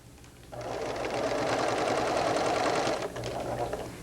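A sewing machine runs a steady, continuous stitching burst along a pieced sweater sleeve seam, starting after a quiet half-second, humming loud and close for about two and a half seconds, then easing slightly while still running.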